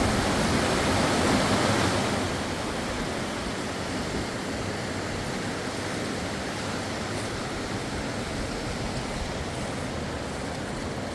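Jenny Creek flowing beneath a bridge, a steady, broad rushing of water that stays close and loud throughout, slightly stronger in the first two seconds, with no voices.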